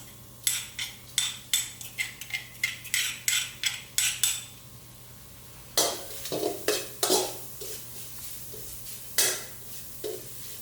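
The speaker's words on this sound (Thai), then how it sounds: "นำลงคั่วในกระทะร้อนๆนะครับ ให้มีกลิ่นหอมฉุนขึ้นมาก่อนนะครับ" Pounded herbs dry-roasting in a hot pan for an Esan curry of chicken giblets with dill, heard as a quick run of sharp metal scraping strokes, a brief pause, then more irregular clanks and stirs over a faint sizzle, close up with no voices.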